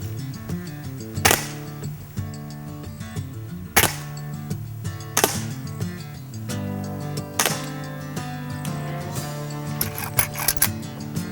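A Beeman P1 pellet pistol set on low power fires a handful of sharp, isolated shots spaced a few seconds apart, each a crisp snap over steady background music.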